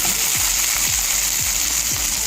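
Curry leaves and seasoning frying in oil in a pan until browned, a steady bright sizzle with faint scraping stirs at a regular pace, close and continuous without talk.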